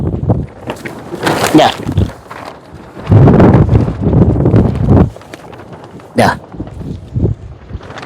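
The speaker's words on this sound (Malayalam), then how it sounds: "പറക്കുന്നത് ആ ഭയങ്കര കാറ്റാണ് ഇവിടെ" Strong wind gusts buffet the microphone outdoors in a ginger field, loud rushing bursts that rise and fall irregularly, with brief rustling between gusts and people talking.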